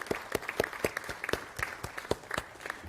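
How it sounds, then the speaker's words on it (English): Applause at Mayer Theater after a Native American symposium at Santa Clara University, a smattering of distinct claps from a modest audience, moderately close and irregular. "if we can give a round of applause to all of the folks at Mayer Theater as well"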